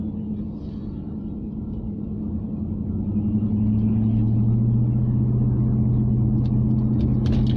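A car's engine rumbles steadily while driving along, with a low droning hum that grows a little louder and deeper after a few seconds, plus road noise and no talking.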